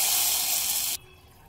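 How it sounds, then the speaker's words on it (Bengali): A little water poured into a hot pan holding panch phoron, a bay leaf and turmeric for sweet green mango chutney, a loud steady hiss and sizzle that cuts off abruptly after about a second. "কয়েক সেকেন্ড পরেই দিয়ে দেব অল্প একটু জল।"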